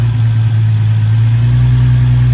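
An Infiniti G35 engine, just fitted with a new valve cover and a plenum spacer, idles steadily with a loud, close, low hum and no talk.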